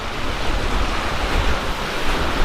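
Ocean waves surge and crash at Thor's Well on the rocky shore of Cape Perpetua, a dense continuous roar with deep booming low rumble and wind noise, loud and close, with no voices.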